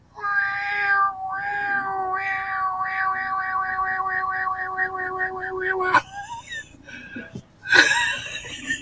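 A person imitates a cat, letting out a string of drawn-out meows that speed into quick repeated mews, followed by rustling and a short noisy burst.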